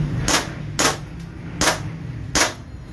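Four sharp pops from a replica toy pistol fired in quick succession, each with a short crack of the slide cycling under recoil, close and fairly loud over a low background hum.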